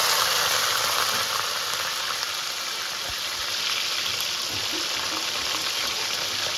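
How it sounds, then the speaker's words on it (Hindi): Cumin seeds frying in hot oil that was already used for frying eggplant, a steady bright sizzle that runs throughout with small crackles and a few faint clinks. "ज़ीरा जो है इसको हम अच्छे से फ्राई कर लेंगे"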